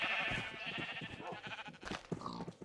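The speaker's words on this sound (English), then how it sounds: "It's just gray and white sheep now." Sheep in Minecraft bleat repeatedly in a farm setting, several overlapping calls close and fairly loud with no talking over them.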